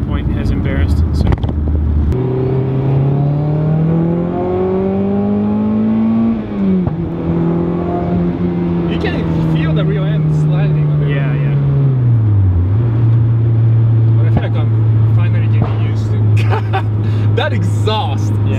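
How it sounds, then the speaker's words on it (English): A turbocharged 2.5-litre Miata with an EFR turbo accelerates hard through several gear changes, its engine note rising and dropping loudly and close, with crackles and pops from the exhaust and voices talking over it. "That exhaust sounds amazing. It just pops like a popcorn there."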